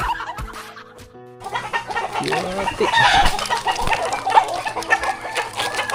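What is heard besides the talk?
chickens clucking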